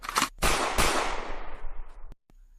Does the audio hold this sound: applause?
no